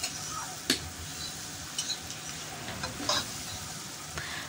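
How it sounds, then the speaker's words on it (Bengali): Chowmein ingredients being stir-fried with a little soy sauce in a pan, giving a faint, steady sizzle broken by a few sharp scraping and clinking strokes of the spatula, with no voices. "আর তার উপরে দিচ্ছি অল্প একটু সয়া সসটা দিয়েও ভালো করে একটু নেড়েচেড়ে নেব"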